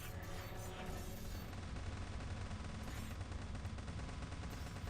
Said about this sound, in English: Looks like my machine gun's getting it done for the most part.